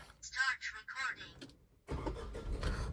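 A Tata 1.2 litre petrol car is cold started: voices talk first, then after a short pause the engine catches and settles into a steady, loud idle rumble close by.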